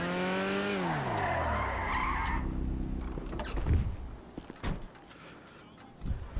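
Karin 190z car in GTA Online, a Nissan Fairlady Z432 build, revving with a falling engine tone and skidding tyres as it is parked, followed by quieter thuds and clunks of the car settling and a door.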